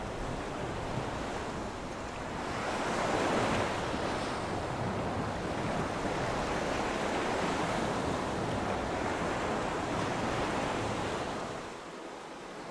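Ocean waves break on a rocky shore in a steady, loud wash of surf, with gusts of wind buffeting the microphone and a swell in intensity near the start, no voices.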